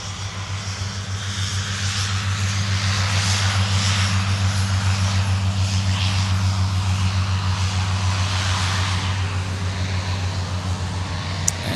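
An Icelandair airliner takes off from runway 12 Right at Minneapolis–Saint Paul airport and turns onto its departure heading, its jet roar steady and loud throughout with a low engine drone underneath.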